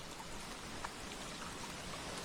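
Faint, steady rain hisses continuously over a tidal creek in Raigad, Konkan, with scattered soft drips, distant and even, no voices.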